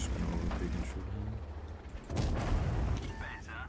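A T54 Heavy tank's gun fires in World of Tanks as a single heavy boom with mechanical creaks, while someone talks over most of the clip.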